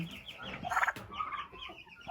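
A turkey gobbles and clucks nearby, a quick burst of throaty, chattering calls, fairly faint with some background noise.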